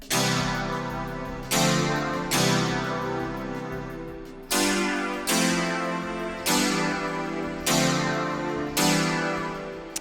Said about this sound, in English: if I just played like a major chord here